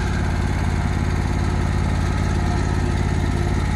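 A lawn mower runs at a constant, loud, rapid pulsing drone while cutting a big lawn at a 2 1/4 height, close and uninterrupted.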